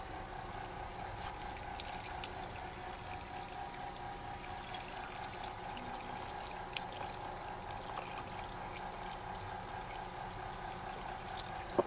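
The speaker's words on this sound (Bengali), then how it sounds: "সবার ফার্স্ট আমি নর্মাল জল দিয়ে একটু ওয়াশ করে নিচ্ছি" Plain water runs and splashes while hair is rinsed before highlighting, a steady soft rushing stream heard close and continuous with no talk.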